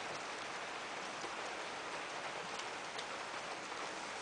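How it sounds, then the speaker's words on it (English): Steady outdoor rain patters on surfaces, a dense, even hiss heard alone for several seconds at moderate distance. "It's raining. Imagine that."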